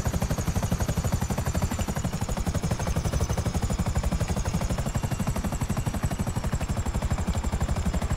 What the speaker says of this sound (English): It's a disposal helicopter anyway.